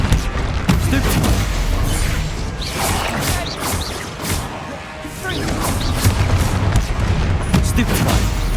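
Hogwarts Legacy duelling with spells like Stupefy, several seconds of loud, crowded bursts, booms and crashing impacts layered over continuous battle noise, thinning briefly midway before surging again.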